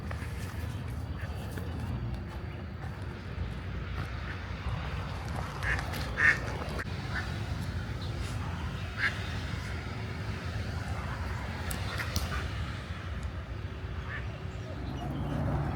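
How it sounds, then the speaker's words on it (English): Baby ducks quack in a city park, scattered faint peeping calls over a constant low outdoor rumble, with occasional talk nearby. "don't you scare these baby ducks"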